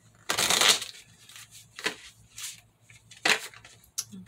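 Tarot cards with individually illustrated backs being shuffled by hand, several quick riffling bursts separated by short pauses, close and fairly quiet.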